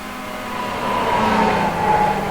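Race cars in close, wheel-to-wheel racing at Summit Point, engines droning loud and steady with a rising, sustained whine as the pack holds speed nearby.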